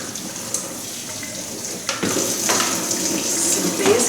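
Tap water running into a sink while fresh produce is rinsed, a steady close hiss of flowing water that swells louder after a couple of seconds, with small splashes and clinks.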